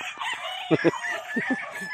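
Gamefowl roosters on a gamefarm in General Santos City crow and cluck, several short bursts near and far overlapping, with faint voices in the background.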